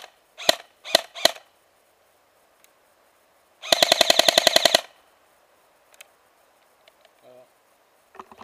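A Jing Gong G36K airsoft rifle firing: three quick single shots, then a loud rapid full-auto burst of about a dozen rounds lasting roughly a second, followed by quiet clicks and handling noises.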